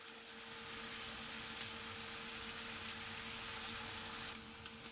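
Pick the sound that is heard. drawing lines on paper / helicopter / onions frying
onions frying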